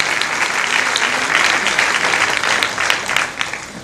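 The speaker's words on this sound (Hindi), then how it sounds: "ताली बजाओ, परमेश्वर को धन्यवाद दें." A church congregation claps together in a steady, dense round of applause that stays loud and even throughout, easing slightly toward the end, with no voices over it.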